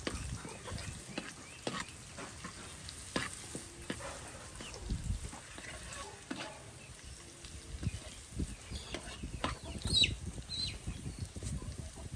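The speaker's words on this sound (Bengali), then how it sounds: "কত সুন্দর করে পেঁয়াজ রসুন দিয়ে বাগার দিয়ে দেওয়া হলো" Onion and garlic sizzle in hot oil for tempering, making a soft, continuous frying hiss broken by light clinks and scrapes of stirring. The sound stays fairly faint and steady throughout.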